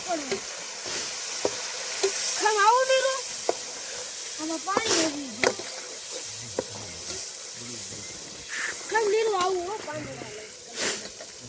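Onions frying in a pan and being stirred while pav bhaji is made outdoors at a farm, a steady sizzle broken by scraping strokes, with people talking over it.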